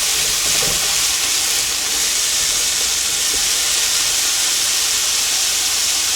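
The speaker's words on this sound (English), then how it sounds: "You want to give them a quick saute." Garlic, chicken, shrimp and vegetables stir-fry in a hot pan, a loud, constant sizzling hiss filling the whole stretch with faint tossing knocks.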